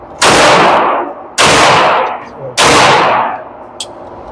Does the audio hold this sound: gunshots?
yes